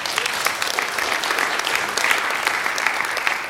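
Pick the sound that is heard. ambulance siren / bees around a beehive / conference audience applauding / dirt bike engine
conference audience applauding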